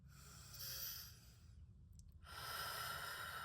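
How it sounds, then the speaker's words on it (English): Slow deep breathing close to the mic, one long breath in and out followed by a second swelling breath, heard alone without talk. "Breathe. Take a deep breath"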